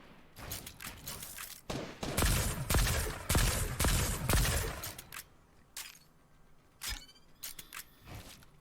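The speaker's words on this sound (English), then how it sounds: "Looks like he's shooting through walls" Gunfire during a Fortnite competitive replay from FNCS Finals, with dense bursts of rapid shots and impacts packed into the first five seconds, then scattered single shots and building clatter, loud and close without talk.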